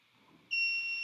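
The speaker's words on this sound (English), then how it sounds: "This motor beeps." A battery motor emits a steady high-pitched electronic beep during remote programming, starting abruptly and holding after a moment of near silence.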